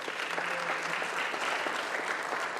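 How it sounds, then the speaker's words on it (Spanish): Church congregation applauding, a steady dense wash of clapping from many hands, moderately distant and continuous. "denle el aplauso al Señor"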